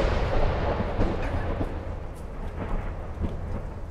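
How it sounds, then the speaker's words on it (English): A lightning strike in ARMA 3 sets off a deep, rolling thunder rumble, loud and close at first and then slowly fading over a few seconds. "there's a fucking lightning strike inbound!"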